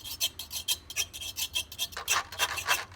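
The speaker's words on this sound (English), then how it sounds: "So we got a couple scrapers, and depending on what you use to scrape it with" A scraper instrument is scraped in a steady rasping rhythm, about a dozen short strokes, close and fairly loud with no talking; the strokes turn brighter and harsher partway through.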